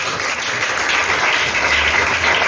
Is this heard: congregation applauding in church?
yes